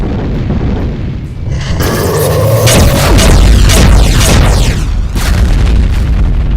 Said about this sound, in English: Same goes for the alt fire of the Behemoth with dual homing fireballs. It also shoots volley spreads of BFG 11K shots.